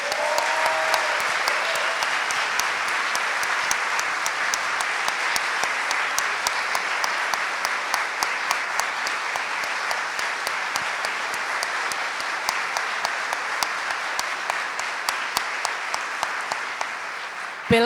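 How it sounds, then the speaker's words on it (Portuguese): Long, sustained applause from a conference audience in Campo Grande honoring Marielle Franco. Dense, steady clapping carries on at full strength for nearly eighteen seconds, with distinct sharp claps punctuating the crowd noise. "quero aqui pedir uma salva de palmas para Marielle Franco"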